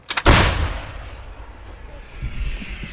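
A single heavy blast from an M777 howitzer cracks out loud and close, followed by a long fading rumble and echo.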